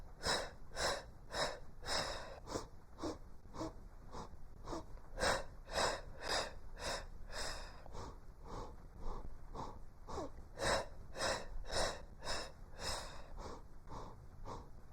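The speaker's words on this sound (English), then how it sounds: "Let's inhale." During a Pilates hundreds exercise, rhythmic forceful breathing pulses in short repeated puffs, inhales and exhales alternating in a steady beat that is close and fairly loud throughout.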